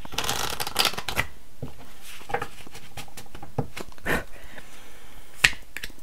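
Tarot cards are shuffled by hand close-up, giving repeated crisp riffles and soft patters in an uneven rhythm, with no talk over them.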